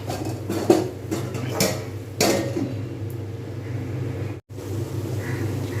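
Lid set onto a pan of capsicum paneer curry: a few close metallic clinks and knocks over a low kitchen hum, then a short pause before the steady background returns.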